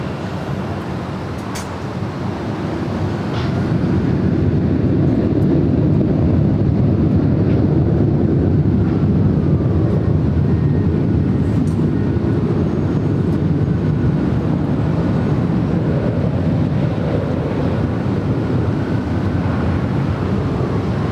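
A Delta Airlines Boeing 737-900ER takes off from Los Angeles LAX. It is heard as a steady, broad jet roar that swells after a few seconds and holds loud and sustained, with some wind buffeting and no talk.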